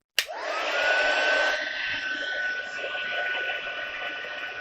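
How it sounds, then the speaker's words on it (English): A crafting heat gun switching on with a sharp click and then blowing a steady, loud rush of hot air with a faint whine, close by and alone. "let's hope this heat gun keeps going"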